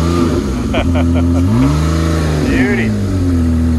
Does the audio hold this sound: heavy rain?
no